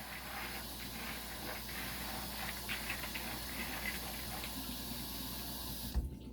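Running water hisses steadily as soaked black beans get a final rinse in a colander, a continuous close wash with faint patter that cuts off abruptly near the end.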